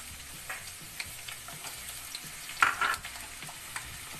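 Onion and whole garam masala fry in two tablespoons of oil in a kadai, giving a soft, steady sizzle with a few faint stirring taps and no talk.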